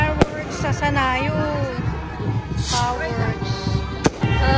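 Sharp bangs and crackling bursts of fireworks at a Santacruzan festival procession in the Philippines pop in the distance while a harmonic voice, maybe singing, and chatter continue throughout.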